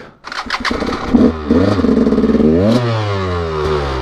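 A KTM EXC 200 two-stroke enduro motorcycle cranks on its electric starter, catches and settles into a loud, close idle with a rising blip of revs, heard alone without speech.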